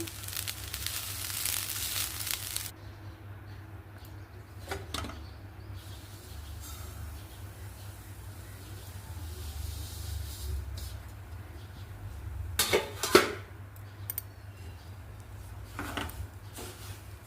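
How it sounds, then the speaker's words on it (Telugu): Semolina roasting in ghee in a pan, a soft steady hiss from the frying grains with a few faint scraping clicks, quiet and close, with no talking. "అదే బాణీలో మరి కొంచెం నెయ్యి వేసి బొంబాయి రవ్వను కూడా వేయించుకోవాలండి"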